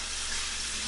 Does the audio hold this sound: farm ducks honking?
no